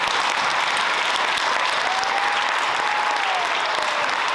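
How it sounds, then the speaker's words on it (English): Sustained audience applause at a school band concert fills the hall, dense and steady throughout without pause, with a faint tone drifting through the clapping. "So let's give a round of applause to all of our families."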